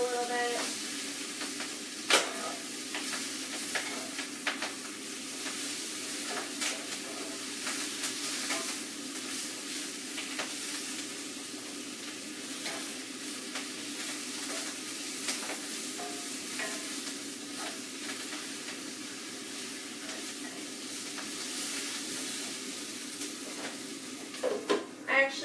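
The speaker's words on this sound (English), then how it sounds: "I'm going to cover these in the oil and garlic and let them kind of wilt down a little bit." Mesclun greens sautéing in oil and garlic, a soft continuous sizzle broken by occasional stirring clicks and pan knocks, fairly quiet and close, with a few louder clatters near the end.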